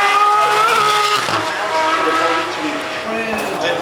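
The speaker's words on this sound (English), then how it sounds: "that sports exhaust is really allowing us to hear that 3-litre with track." A Ferrari with a 3-litre engine and sports exhaust runs at the Goodwood Festival of Speed, its engine note rising and shifting loudly near the track while a commentator talks over it.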